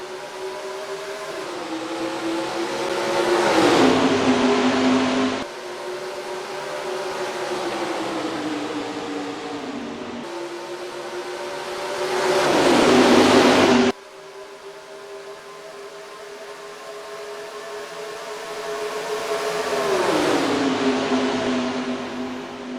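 Race cars in NASCAR Racing 2003 lapping Homestead, engines droning as a loud, continuous harmonic whine that swells and climbs in pitch in repeated waves as cars accelerate and sweep past.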